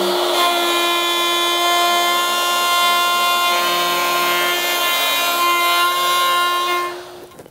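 A router with a bottom-bearing bit cleans up the side of a large through mortise in wood, a loud, close, steady high-pitched whine that holds for several seconds before dropping away at the end.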